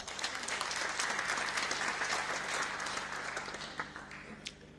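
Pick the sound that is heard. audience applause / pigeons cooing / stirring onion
audience applause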